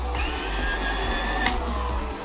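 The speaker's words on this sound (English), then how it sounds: "this blaster sounds like a vacuum cleaner and a dying cat when you're using it" A Nerf Mach-100 blaster's flywheel motor revs with a loud, steady whining hum and a rattling buzz, close and continuous with a sharp click near the middle, with no talking over it.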